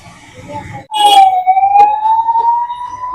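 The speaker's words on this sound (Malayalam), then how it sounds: "ആംബുലൻസ് പോകണം." A loud ambulance siren wails nearby after a sudden onset, holding a rising tone over background chatter and traffic at a teashop in Palakkad.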